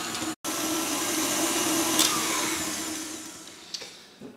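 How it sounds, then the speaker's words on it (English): An electric mixer beats coffee-and-spice cookie dough at medium speed, a loud continuous motor whine that drops out briefly at the start, then runs steadily and tapers off near the end. "I'm going to beat these at medium speed just until they're well combined"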